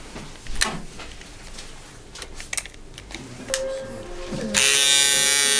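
An Andis electric foil shaver fitted with a worn old foil runs loudly, a steady harsh buzz starting partway through after some handling clicks and rustles.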